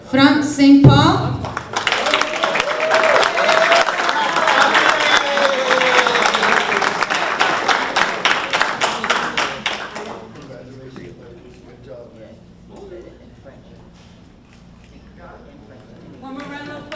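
A crowd applauds at a graduation ceremony for construction trainees, loud continuous clapping for about ten seconds that dies away, followed by quieter room sound and scattered voices.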